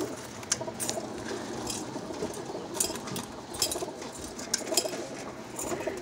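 Birmingham Roller pigeons in a breeding loft coo softly and steadily, with occasional brief fluttering and scratching over a continuous low murmur of birds.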